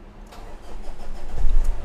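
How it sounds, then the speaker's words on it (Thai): A 2007 Ford Ranger 2.5 pickup truck engine with manual transmission cranks and catches, growing louder into a rough rumble over a couple of seconds, close by. "เดี๋ยวสตาร์ทให้ฟังเสียงเครื่องยนต์นะครับ"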